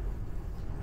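A 6.0 diesel truck engine idles after an FICM replacement, giving a steady, close, low rumble with no talking.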